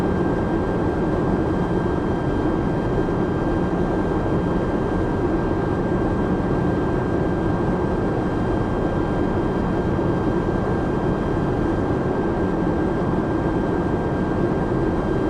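Steady, loud broadband roar inside the cabin of a Boeing 737 MAX 8 cruising at altitude, continuous engine and airflow noise with a faint constant tone above it, no voices throughout.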